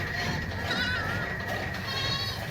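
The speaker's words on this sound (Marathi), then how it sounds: "इकडं आहेत शेळ्या आपल्या एवढ्या" Goats bleat on a village farm among buffalo and other livestock, their cries repeating over a steady outdoor background with no talk.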